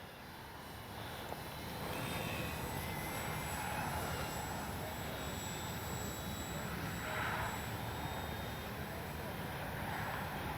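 A small RC model plane, a HobbyZone Carbon Cub S2, drones at a distance over grass, its engine whine steady and thin beneath a broad hiss of wind and outdoor noise.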